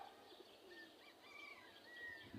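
A pigeon settles onto a house roof while soft, faint cooing and light chirps play over quiet background noise, with a brief flutter of wings and no talking.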